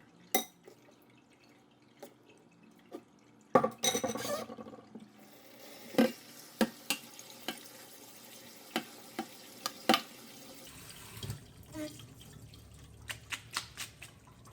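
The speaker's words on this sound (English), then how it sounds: "I'm separating some unrinsed noodles from the noodles still in the colander, and then I'm going to rinse off those noodles" Cooked pasta noodles being rinsed in a colander: intermittent close splashes and drips of water with wet clatter against the strainer, with quiet gaps between.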